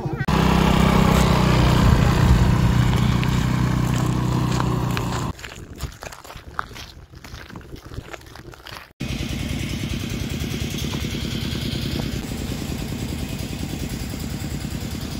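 A motorbike ride: a loud, steady engine drone for about five seconds, then a quieter rougher stretch, and finally the engine running again at a constant level until the end.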